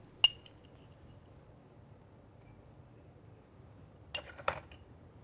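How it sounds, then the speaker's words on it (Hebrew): A muddler works lemon and sugar in a glass for a mojito: one sharp clink early, then a couple of quick clinks near the end, with otherwise quiet room tone. "ונמשיך בקטישה"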